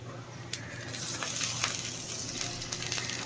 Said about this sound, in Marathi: लसूण टाकला कांदा मिरची लसूण छान असं परतून झालं ना